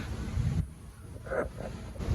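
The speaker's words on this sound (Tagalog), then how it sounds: "Yan, ang lakas ng hangin." Strong wind gusting across an open outdoor park, a steady low rumbling buffet against the microphone that eases briefly midway before surging again.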